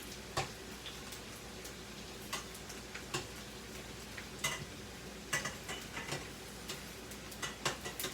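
Jamaican saltfish fritters frying in hot oil, a quiet steady sizzle broken by repeated light ticks and taps of a utensil against the pan.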